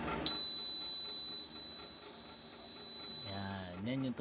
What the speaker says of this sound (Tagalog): Yan yung tunog ng 4K